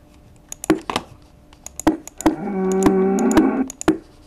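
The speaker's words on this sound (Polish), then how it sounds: "Krowy!" One drawn-out Minecraft cow moo sounds loud and close over rapid, sharp clicking taps that continue before and after it.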